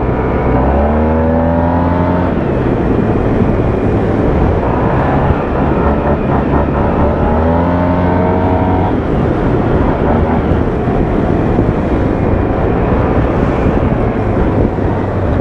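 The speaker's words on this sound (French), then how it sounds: "sur l'accélération, c'est cette magnifique mélodie du T-Max" A 2022 Yamaha TMAX scooter accelerates in repeated pulls, its engine note climbing in pitch several times before easing, loud and close under heavy wind rush from riding.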